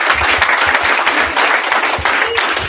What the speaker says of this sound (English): If we could get a round of applause for the General